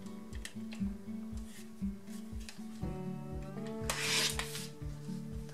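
Quilting fabric pieces are cut diagonally, with rhythmic rasping and rubbing strokes close up, followed by a brief brighter swish near the end, with no talking.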